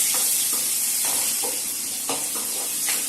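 Onions and spices sautéing in a pan for a Tamil-style prawn gravy thokku: a steady hiss of frying oil with soft periodic stirring scrapes, close, and no voices.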